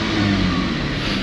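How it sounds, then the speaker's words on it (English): A car engine with a suspected exhaust leak and a post-catalyst lean code revs in a repair shop, making a loud, steady, close roar that holds for just over a second. "I hear exhaust leaks."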